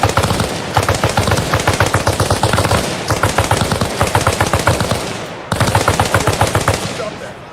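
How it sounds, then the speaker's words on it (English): Machine gun suppressive fire in the military game Arma Reforger, with loud, rapid, evenly spaced automatic bursts running almost continuously, broken by two brief pauses, close and dominant. "Have your boy lay down suppressive fire."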